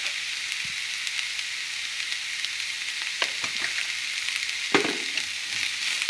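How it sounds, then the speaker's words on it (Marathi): Finely chopped onions fry in a pan with salt for an aloo paratha, giving a steady close sizzle with scattered pops and crackles and the occasional scrape of stirring. "जाता तितू बारीक कातर पियाव आनी बरो फ्राय कर"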